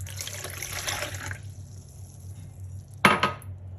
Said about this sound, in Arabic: هلا بدي أحط المي،